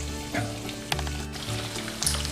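Bacon, chorizo and hot dogs frying in a pot for bean soup, sending up a steady sizzle broken by brief stirring clatters and a few louder spits, with a low hum underneath.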